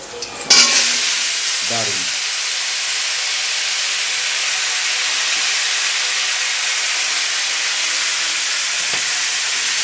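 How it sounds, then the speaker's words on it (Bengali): Vegetables go into a hot pan for khichuri and set off a sudden loud sizzle that settles into a strong, steady hiss of frying, with a brief stir near the start. "এবার আমি সবজিগুলো দিয়ে দিচ্ছি"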